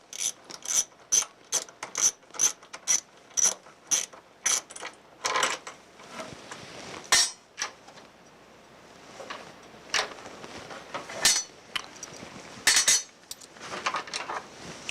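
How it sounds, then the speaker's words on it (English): Socket ratchet loosening the top bolt on a ProMax40, a dense run of sharp ratcheting clicks in quick regular bursts, close and fairly loud, then irregular clanks and rattles of metal parts with no talking. "use the socket to loosen up the bolt on the top"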